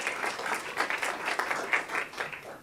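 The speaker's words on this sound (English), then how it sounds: "She deserves applause." Audience applause for a staff member standing up at a quarterly board meeting, moderate and steady with dense overlapping claps lasting a few seconds.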